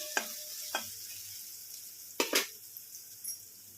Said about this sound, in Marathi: तर आपला कांदा परतायला टाकलेला आहे तो छान असा परतून घेऊया